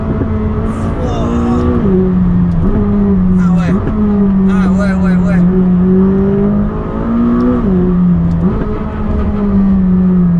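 A sports car engine revs loud and close, its pitch rising and falling in several surges over a steady drone, with a person briefly speaking over it.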